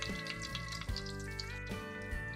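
Green chilies deep fry in hot oil for Singaporean rice, giving a soft, continuous bubbling sizzle with faint crackles, set under a steady tonal background for the whole short stretch.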